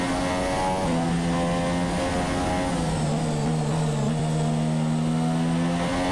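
A Formula 1 car engine in the F1 2017 racing game howls steadily at the Australian Grand Prix in Melbourne. The loud, constant whine shifts pitch slightly as the car changes gear and speed.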